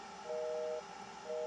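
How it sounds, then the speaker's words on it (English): An Ameritec AM-7 central office simulator produces a low, steady telephone tone that switches on and off in an interrupted pattern. It is heard faintly over quiet background hiss, with no talking. "Oh, the dial tone, continuous, interrupted, continuous. Low frequency."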